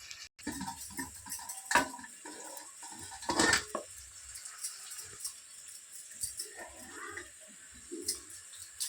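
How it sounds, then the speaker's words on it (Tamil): Onions stirred in a hot pan while a home-style fish kuzhambu fry is cooked, with scattered spoon clinks and scrapes against the pan, a quiet sizzle and a few louder knocks. "வெங்காயம் வதக்கிட்டே இருக்கட்டும்"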